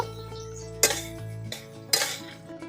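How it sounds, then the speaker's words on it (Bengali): Potatoes tossed with salt and turmeric in a pan for a mushroom-potato curry, three sharp metal spatula scrapes and clanks against the pan over a low steady hum. "নুন আর হলুদটাকে আলুর সাথে ভালো করে মিশিয়ে নেব"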